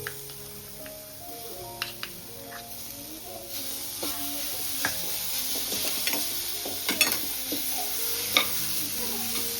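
Jaggery melting with grated coconut in a pan while being stirred, a soft continuous sizzle and bubbling with occasional scraping clicks of the spoon, close and steady.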